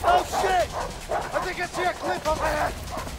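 Dog barking, yipping and whimpering during an attack in the video game A Way Out, a run of sharp repeated barks and yelps up close, mixed with game sounds and overlapping talk.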